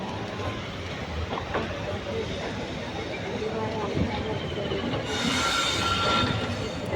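Train pulling into Thiruvananthapuram station on the Nagercoil to Kollam route, a steady close rumble of the carriage with constant broadband rail noise that brightens into a hissier wash in the last couple of seconds.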